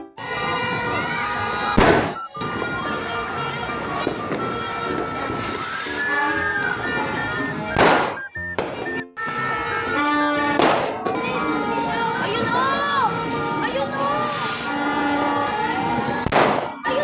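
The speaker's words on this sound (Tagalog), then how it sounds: "Paano ba naman may nagpuputukan na?" Sharp bursts of firecrackers and fireworks pop repeatedly outdoors on New Year's Eve, with crackling explosions and a crowd murmuring and talking throughout.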